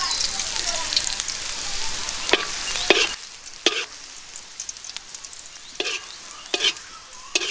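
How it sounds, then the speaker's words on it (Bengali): Food fries and sizzles in a pan in a village kitchen while a utensil stirs and scrapes it, with several sharp metallic scrapes over a steady close sizzle. "এখন আমাদের ভাজনাটা ভাজা হয়ে গেছে, আমি তুলে দিচ্ছি।"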